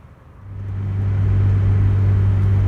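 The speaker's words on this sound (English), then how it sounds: "Now we're just going to go on a test drive." A Mazda Miata on a test drive after a clutch master and slave cylinder change, its engine rumble rising within the first second into a steady, loud drone, heard from inside the car.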